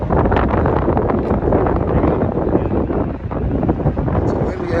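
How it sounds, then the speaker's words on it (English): Strong wind in Seville, Spain, near the Alamillo Bridge buffets the microphone in a constant roaring rush, loud and close throughout, with no clear voices. "It's a windy afternoon."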